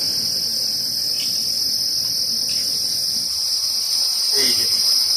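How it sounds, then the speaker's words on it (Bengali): A loud insect, likely a cricket, perched on a wire along a mountain trek path gives a steady, piercing high-pitched chirr that runs unbroken throughout, with faint background rustle and no talk. "এই পোকার এত জোর আওয়াজ।"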